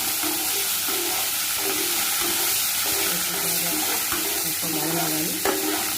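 Mustard seeds, cumin, fenugreek, coriander and curry leaves sizzle steadily in hot oil for stuffed brinjal curry, a loud continuous frying hiss with a few stirring clinks and no talk.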